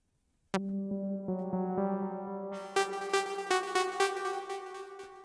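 A song plays with a delay effect on it, with sustained harmonic synth tones and repeated note attacks that echo and stack, quiet and without speech.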